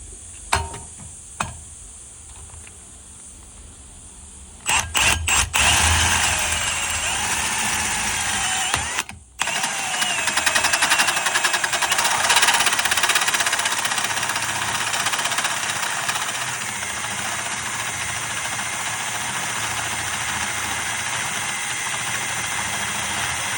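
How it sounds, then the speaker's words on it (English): A power drill with a hole saw grinds loudly and continuously through material after a few seconds of quieter noise, with a brief pause partway through. "So I'll drill that through now."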